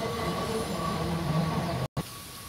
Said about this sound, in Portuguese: Esse trem tá muito barulhento.